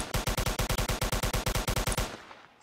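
Rapid automatic gunfire in Roblox Incursion: a tight, evenly spaced burst of about eighteen loud, close shots over two seconds, then an abrupt stop with a short fading tail.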